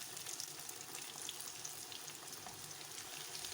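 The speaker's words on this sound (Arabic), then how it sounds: "مع القلي لازم يكون الزيت ساخن حتى يعطيك نتيجة كويسة وممتازة" Cauliflower florets frying in hot oil give a steady, dense sizzle with fine crackling throughout, fairly close and continuous with no talking over it.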